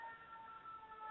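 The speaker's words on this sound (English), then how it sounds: "I apologize for the sirens." Sirens wail in the distance, a steady high tone holding over a low background hum with no talking.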